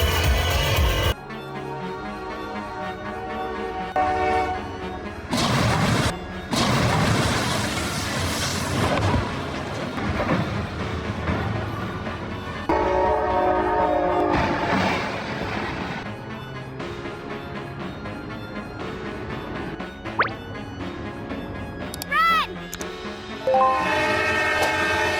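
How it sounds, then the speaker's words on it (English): A train at a railway crossing bears down on a car left on the line, its horn sounding loudly in long blasts over heavy rumbling and clattering wheels, with sharp gaps and a rising tonal sweep near the end. "A car was left on the railway line while a train was coming closer"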